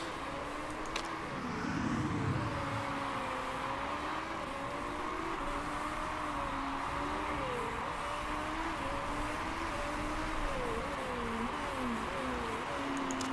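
A race car in the Motorsport Manager game drones steadily through its victory lap, a faint, distant engine tone rising and falling with gear changes over a constant background hum.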